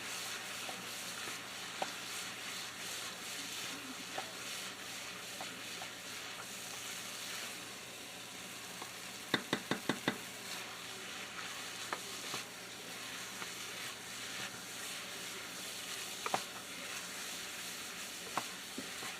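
Beef stroganoff cooking in a pan, a quiet continuous sizzle with sporadic light scrapes and a quick run of clicks from stirring partway through.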